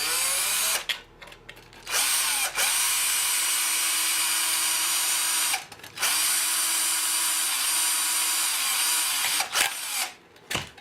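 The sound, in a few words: drill boring a pilot hole in tin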